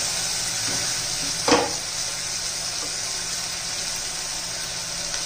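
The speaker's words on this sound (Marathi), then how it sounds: "बटाटा आणि ते शेंगदाणे वगैरे घालून आता आपण मसाले घालून घेऊ." Potatoes and peanuts frying for masale bhat as spices are added, a steady close sizzle of oil with one brief stirring scrape partway through, no voices.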